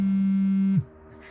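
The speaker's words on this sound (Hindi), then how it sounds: "फोन किसका बजा है?" A phone ringtone: a steady electronic tone hums loudly and evenly for under a second, then cuts off abruptly, leaving faint background noise.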